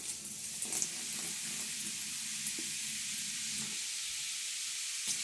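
Boiling water from a pot poured down a clogged drain, a steady hissing, sizzling rush with faint gurgles, moderately close and continuous with no talk.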